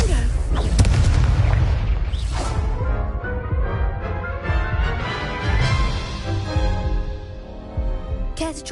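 Confringo explosive spell fired in Hogwarts Legacy, a loud booming blast with a rumbling crash and ringing magical tail that keeps going for several seconds under game music and effects.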